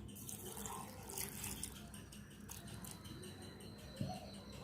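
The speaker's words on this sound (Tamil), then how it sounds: "இப்போ தேவையான அளவு தண்ணி ஊற்றிக்கலாம்." Steady splashing of water being poured into a mixer jar of sugar and pineapple for juice, a continuous wet trickle at close range with no voices.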